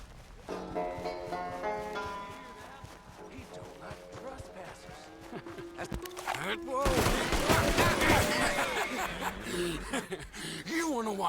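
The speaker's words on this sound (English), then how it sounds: "That sounds like gunfire." Rapid bursts of gunfire in a Red Dead Redemption 2 western shootout, loud and dense in the latter half, with cracks and shots layered over a game soundtrack and character dialogue.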